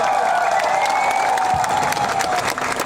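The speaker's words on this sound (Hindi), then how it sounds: "पू बीके रंखोल के लिए ताली मारिए।" A seated political rally crowd claps for a leader, a dense, steady wash of applause that holds throughout with a few faint voices mixed in.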